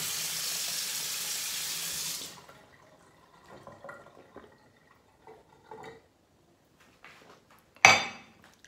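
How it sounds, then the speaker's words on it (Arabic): Water runs from a kitchen tap into a glass for a couple of seconds, a close steady gush that then stops, followed by faint drips, light clinks and a sharp knock of the glass. "حاولوا تاخذوا كاس ديال الماء كيف كندير انايا"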